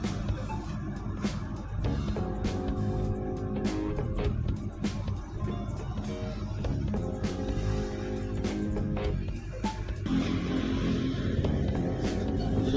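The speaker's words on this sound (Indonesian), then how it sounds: "Kita duduk santai aja dulu di dalam bus PMTO ya" Cabin of a moving PMTOH intercity bus on an inter-province route, with a steady engine drone and road rumble, frequent clicks and rattles, and a tonal whine that shifts partway through.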